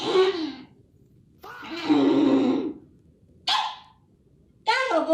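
Dogs bark in loud, separate bursts from a played recording, three or four barks with growly, whining tones and short silences in between.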